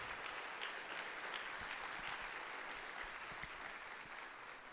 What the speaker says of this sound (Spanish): ¿Cuántos le dan palmas de alabanza al Señor?